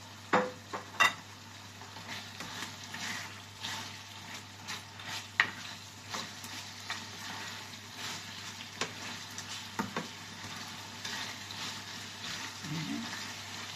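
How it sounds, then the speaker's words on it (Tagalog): Tender beef frying in oil in a pan, a soft steady sizzle close by with scattered clinks and scrapes of stirring, fairly quiet throughout. "Lagyan po natin ng oil. Atin po siyang iprito ng konti."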